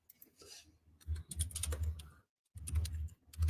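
Quick bursts of clicky typing on a computer keyboard with long fingernails, close and fairly quiet, broken by a brief silent pause partway through.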